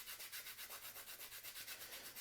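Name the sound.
sanding pencil graphite lead to a long taper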